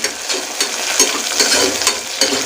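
Onions sautéing with mint and coriander for beef biryani, a steady close sizzle with repeated soft scrapes and stirs from a spoon in the pan, no voices.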